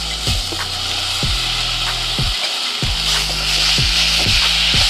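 Chopped coriander and mint leaves sizzle in a hot pan for chicken biryani, a steady hiss under regular low scraping thumps about once a second as they are stirred.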